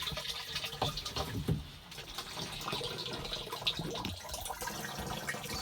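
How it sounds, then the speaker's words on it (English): Spring water pours steadily from a hose looped through the handle of an empty garbage can, a continuous splashing fill heard up close with no voices. "There's the spring water pipe coming over, going through a handle of the garbage can, and the water is flowing in"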